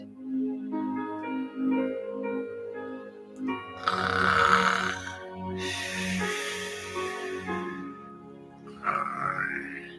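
A person lying on their back on the floor imitates snoring with drawn-out, rasping, pig-like grunts and snorts, several loud noisy bursts rising and falling over ten seconds, heard close with no talking.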